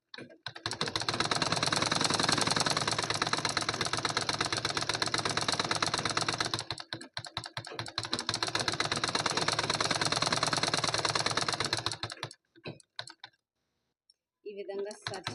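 A sewing machine stitches the neck piece of a cotton-lined blouse, running loud and steady with a rapid needle clatter, stopping briefly and then running again before it falls quiet near the end.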